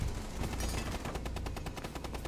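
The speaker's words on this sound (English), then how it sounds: "That is not the UMP's rate of fire." UMP submachine gun fire in Rainbow Six Siege, a rapid, dense burst of close shots rattling in quick rhythm for a couple of seconds.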